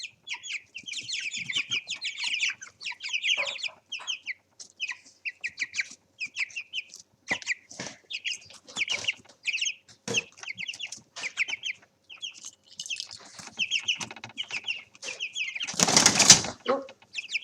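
Young chicks in a brooder peep in dense, high, overlapping chirps that go on almost constantly, with a burst of wing flapping near the end.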